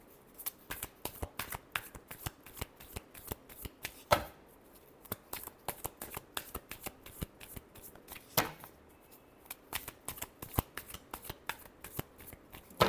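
Tarot cards are shuffled by hand up close, a long string of crisp riffling flicks and soft slaps repeating in quick, uneven rhythm, with no talking.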